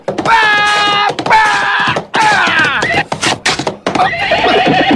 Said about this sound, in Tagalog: Ang akong kabayo!